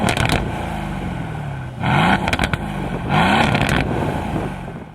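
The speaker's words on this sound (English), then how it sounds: "you're going to get a lot more cracks, pops, bangs out of the exhaust" A 2020 Aston Martin Vantage with an AMG twin-turbo 4.0-liter V8 in track mode, loud nearby revs that rise in two bursts, with crackling pops and bangs from the exhaust between them.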